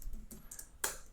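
Someone types a web address on a computer keyboard. A few quick, light key clicks come close together, followed by one firmer tap near the end. The clicks are quiet, close and isolated, with no talking.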